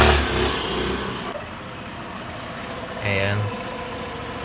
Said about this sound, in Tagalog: Hindi na namamalya ang kanyang makina.